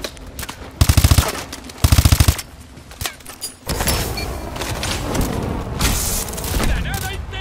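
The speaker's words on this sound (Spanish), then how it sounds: "¡Va una granada!" A grenade blast and automatic gunfire in Call of Duty Advanced Warfare: loud rhythmic machine-gun bursts, then a heavy boom followed by rumbling combat noise, with shouted voices mixed in.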